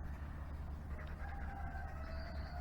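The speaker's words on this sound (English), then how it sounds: "You can hear the rooster in the background" A faint rooster crows in the distance, its drawn-out call rising and falling over a low steady background hum.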